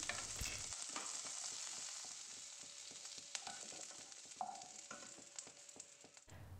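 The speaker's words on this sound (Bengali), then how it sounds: "হালকা ভেজে পেঁয়াজ ও ক্যাপসিকাম একটা ডিশে আমি তুলে নেব।" Onion and capsicum frying in a pan for a dhaba-style mixed veg dish, a steady close sizzle punctuated by regular spatula taps and stirring scrapes, with no talking.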